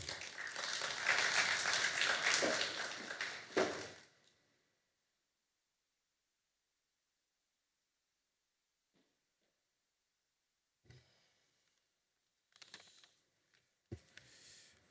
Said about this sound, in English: Hand of applause, please.